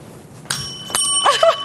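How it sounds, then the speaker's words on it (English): A bell rung once as a buzzer in a quiz game, giving two bright metallic rings about half a second apart, followed by a short tinkling flourish, loud and close with no talk. "to ring the bell"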